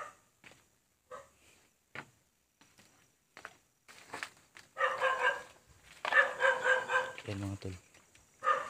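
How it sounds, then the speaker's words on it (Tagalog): A dog barks several times at a distance, short sharp barks scattered through the clip, while someone talks nearby and other voices are heard. "Sobrang ingay ng paligid kasi may aso, no?"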